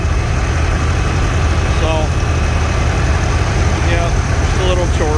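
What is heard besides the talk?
small gas chore tractor engine idling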